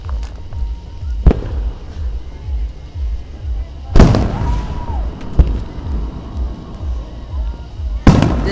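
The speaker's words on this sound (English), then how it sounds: "We're seeing fireworks." Fireworks at the Magic Springs show in Hot Springs, Arkansas burst in loud sharp booms, three standout blasts spaced a few seconds apart over continuous crackle and distant pops, with people talking throughout.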